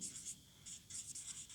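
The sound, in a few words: writing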